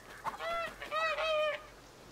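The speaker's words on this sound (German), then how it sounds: "Du verrückte Ente." A duck in the video game A Plague Tale: Innocence gives several loud, nasal honking quacks close by, two short calls followed by a longer run of three or four.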